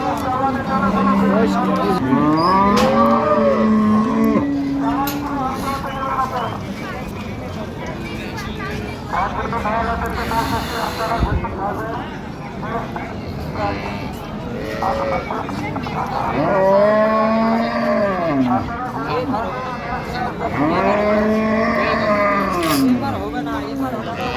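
Dairy cows and calves at Raniganj cattle market in Dinajpur low repeatedly in drawn-out moos, several near and some farther off, over continuous crowd chatter and people talking close by.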